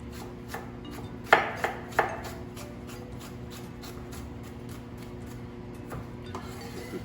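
A knife cutting vegetables into sticks on a board for jalapeño poppers, a few sharp chopping knocks early on, then a steady run of light, regular taps under a low kitchen hum.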